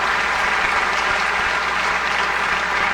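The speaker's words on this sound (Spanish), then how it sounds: "Un aplauso para nuestros agricultores." Audience applause for farmers during a national address by Ecuador's vice president, steady dense clapping from a large crowd that continues at an even level throughout, with no talking.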